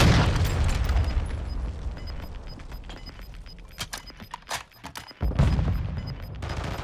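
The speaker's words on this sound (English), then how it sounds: "Friendly cruise missile approaching target." In a multiplayer shooter, a cruise missile strike lands with deep booming blasts and a burst of rapid cracks and pops, heavy at the start, sparser in the middle, then a second loud rumbling impact.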